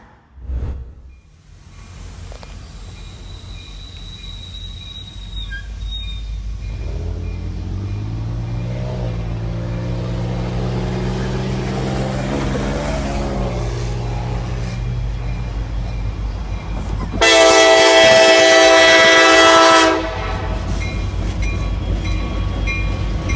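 A train horn blasts loud and sustained for a few seconds as a car tries to race a train at a rail crossing, over the steady rumble of the passing train.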